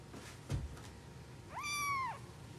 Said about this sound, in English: I got a cat.